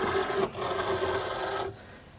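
Cricut cutting machine drawing in a cutting mat loaded with window cling, a steady quiet motorized whir with a faint whine lasting under two seconds before stopping.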